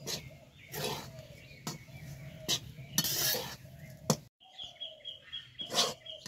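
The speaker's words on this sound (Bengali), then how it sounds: "গরম কড়াই খুন্তি দিয়ে এইভাবে উল্টে পাল্টে ভালো করে একটু হালকা করে ভেজে নিয়েছি" A metal spatula scrapes and clinks against a hot wok, stirring mustard seeds in repeated strokes, with light sizzling and a faint chirping in the background.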